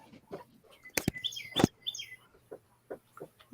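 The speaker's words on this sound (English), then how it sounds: "There's some beautiful birds singing somewhere." Small birds singing outdoors, a few bright chirps and short whistled phrases scattered at moderate distance over quiet background, with some sharp knocks or taps mixed in.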